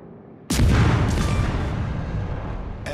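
Naval gunfire and explosions from a warship battle in the World of Warships: Legends video game, with a sudden loud boom erupting after a quiet moment and rumbling on as a sustained roar that slowly fades.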